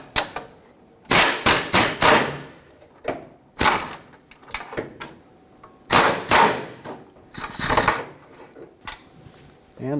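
A power impact tool spins off 14 mm nuts holding the front bumper bracket to the frame of a 1995-2004 Toyota Tacoma, loud short rattling bursts separated by pauses, up close.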